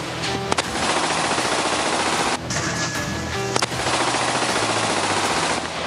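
BSF soldiers fire machine guns at Pakistani rangers from the Samba sector along the border, a loud continuous rattle of automatic fire with a brief pause partway through, no voices.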